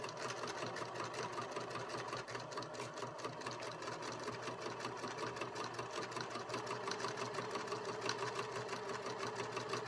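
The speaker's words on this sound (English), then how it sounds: "So I'm doing basically it's a top stitch on it." A sewing machine top stitching a fabric basket, a quiet, steady whirring with the needle's rapid even rhythm running without a break.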